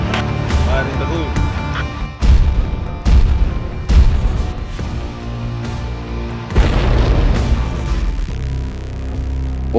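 Demolition charges set off by Philippine special forces, a loud close boom followed by further heavy blasts and rumbling rolls under shouted voices and radio-style talk.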